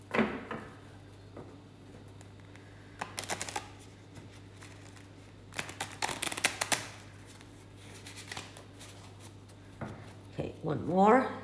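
Repeated riffle bursts from a deck of cards shuffled by hand, quiet and close, with brief pauses between shuffles and soft table taps, a voice talking intermittently.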